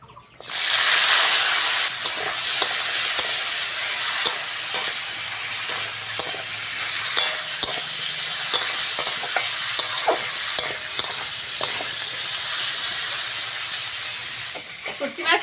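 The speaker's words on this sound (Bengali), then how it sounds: "সর্ষের তেল দিয়ে দেবো শুটকি মাছগুলো ভালো করে ভেজে নেবো" Dried Loitta fish fry in hot mustard oil in a steady, loud sizzle and crackle, with repeated scrapes and clinks of stirring running through the whole stretch.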